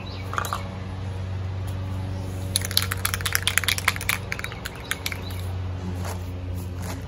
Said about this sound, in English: You're gonna shake this up real good for about 2 minutes.